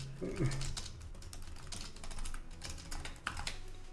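Rapid clicking of a computer keyboard being typed on runs through the clip, with a voice talking over it and a brief louder clack near the end.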